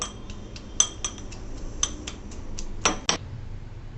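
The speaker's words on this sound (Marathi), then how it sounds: "आता आपण लसूण जाडसर ठेचून घेऊ" Garlic being coarsely crushed for a home-cooked wild kartoli vegetable dish: a string of light, sharp taps and clinks at uneven intervals, with a couple of louder hits near the end over a quiet background.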